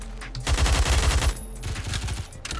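A rapid automatic weapon fires in Roblox Phantom Forces, a close, loud burst of evenly spaced shots lasting under a second, followed by quieter scattered game noise and a final brief shot.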